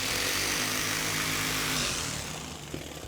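Power saw plunging into bathroom remodeling material, a steady loud high-pitched whine that holds for about two seconds and then winds down, with no talk.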